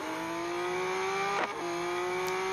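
A four-wheel drive Lamborghini's engine in a racing game holds a steady, rising drone, shifting pitch abruptly once midway as it changes gear, close and continuous with no talk.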